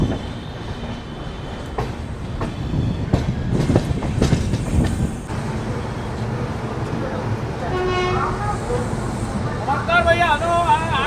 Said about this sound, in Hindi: सेंट्रल पे अपनी गरीब रथ अभी बस पहुंच ही रही है